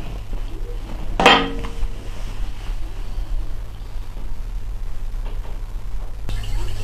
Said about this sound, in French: je fais la vaisselle